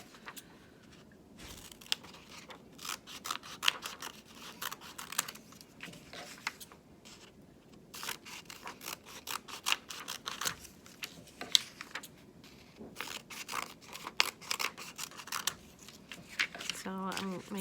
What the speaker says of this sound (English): And when I cut my paper, it's gonna cut off because we're gonna be cutting that whole line and it's gonna create these strips.